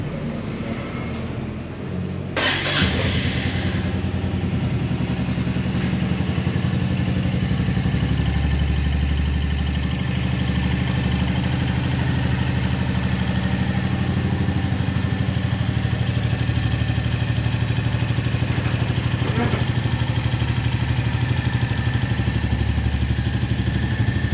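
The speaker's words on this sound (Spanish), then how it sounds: "El sonido del escape es grave y cálido" A Royal Enfield Meteor 350 motorcycle engine idles steadily for a long stretch, a deep, low, warm exhaust thrum with a sharp clack near the start.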